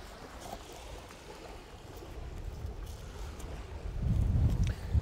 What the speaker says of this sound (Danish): som i dag, hvor det blæser ret meget